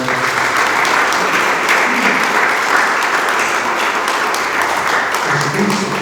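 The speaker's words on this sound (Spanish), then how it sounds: "Denle palmas al Señor." A church congregation claps during a sermon, with dense, steady applause from many hands sustained throughout and a few faint voices mixed in.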